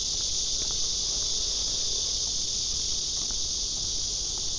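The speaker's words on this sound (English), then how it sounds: "these cicadas are so loud" Cicadas buzz loudly from trees along a Seoul street on a summer night, a dense, unbroken high-pitched drone over faint low background noise, with no talk.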